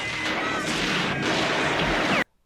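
Loud, dense burst of gunfire and crashing impacts from the film Batman (1989), lasting about two seconds, then abruptly cutting to silence.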